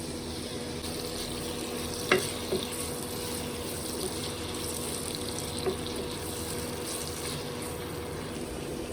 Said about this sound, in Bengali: এখন মুরগি ভাজা তেলের মধ্যেই আমরা পেঁয়াজ দিয়ে দেব